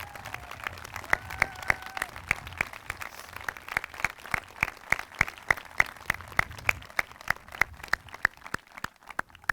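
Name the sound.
audience applause for active duty service members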